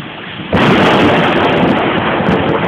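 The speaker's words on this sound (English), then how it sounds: "A little thunder, lightning too." Thunder rumbles in suddenly after a quiet start, a loud sustained roll with a steady wash of light rain behind it, broadband and filling the whole clip.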